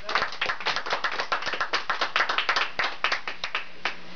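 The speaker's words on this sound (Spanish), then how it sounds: "Aplauso." A small group claps at the end of an interview, quick crisp handclaps in an uneven rhythm that thin out and stop near the close.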